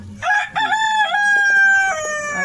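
Rooster crowing loudly and close in a poultry farm coop where hens lay eggs in nesting boxes, a long drawn-out call with a brief clucking lead-in, no talk.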